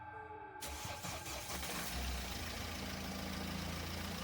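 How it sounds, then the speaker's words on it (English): A car engine cranks and catches after a brief near-silent start, then roars loudly and settles into a steady, rumbling idle that fills the rest of the moment. "The engine roared to life,"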